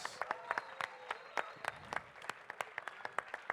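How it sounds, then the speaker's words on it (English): A small audience at an arts event claps for the performers with sparse, distinct claps in an irregular rhythm, close and moderately loud. "I want to give a huge, massive artistic, Rimi felt love applause for Jamal, Rav, Sufala, Omar, and Zohab"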